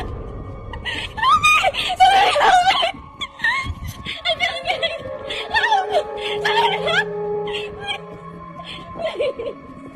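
A woman screams for help while running, captured on a phone recording: high, wavering wails and cries in repeated bursts, loud and close, fading to more broken sobbing sounds toward the end.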